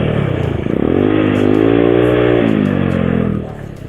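A motorcycle engine with an aftermarket exhaust silencer insert fitted revs steadily at high pitch, its tone rising and holding before easing off, loud and close.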